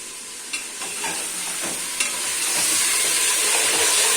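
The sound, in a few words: roast and chonge being stirred and fried in a handi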